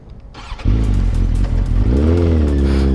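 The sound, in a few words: motorcycle engine starting, exhaust sound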